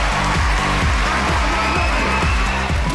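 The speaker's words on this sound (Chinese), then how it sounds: "掌声有请" A studio audience at a Chinese TV dating show applauds, dense continuous clapping with some cheering that stays loud and even for a few seconds.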